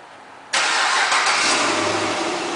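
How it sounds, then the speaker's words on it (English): A 2012 Chevrolet Camaro SS fires up by remote start, with a sudden loud engine catch after a quiet moment that settles into a steady, close rumbling idle. "the car is also equipped with a remote start, and I'm going to go ahead and demonstrate that for you"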